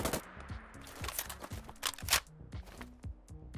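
Quick-eject reload of a SIG MCX rifle in a modded Fallout 4, a rapid string of close mechanical clicks, clacks and a magazine knock, sharp and dry with no voice.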